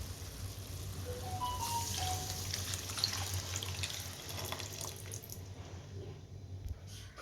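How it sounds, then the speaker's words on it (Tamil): Tamarind water, made from a lemon-sized lump of tamarind soaked and dissolved, is poured into a pan of sautéed fish curry (meen kulambu). A steady, close splashing pour runs throughout with no speech. "நான் ஒரு எலுமிச்சம்பழம் சைஸுக்கு புளியை ஊற போட்டு கரைச்சி வச்சுருக்கேன் இதை இப்போ இதில் சேர்த்துடலாம்"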